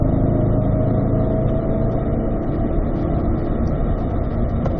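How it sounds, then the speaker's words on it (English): Chevrolet C8 Corvette accelerating hard and upshifting into fifth gear, a loud, steady close engine roar filling the whole stretch with no talk over it. "accelerating, upshift to fifth here"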